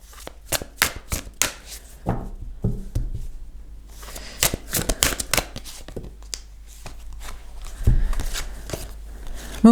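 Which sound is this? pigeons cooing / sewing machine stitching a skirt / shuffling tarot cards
shuffling tarot cards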